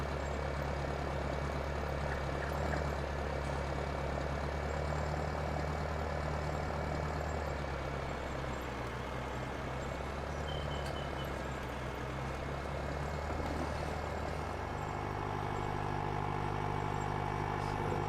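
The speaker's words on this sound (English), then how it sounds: "So considering on a fairly small tractor, it doesn't actually pull too badly." A small tractor engine in Farming Simulator 19 pulls a straw blower, a steady low droning rumble that holds continuously and loudly throughout, with a slight shift in tone near the end.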